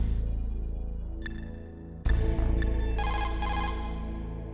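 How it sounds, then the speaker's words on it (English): Telephone ringing on and on with no answer inside the video game Metal Gear Solid, an electronic ring tone that repeats loudly over a steady low musical background. "no one's picking up the phone"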